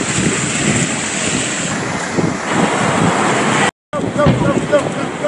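Rough sea off a Phuket beach in Thailand, with a steady roar of churning water and heavy wind buffeting the microphone close by, broken by one brief dropout near the end.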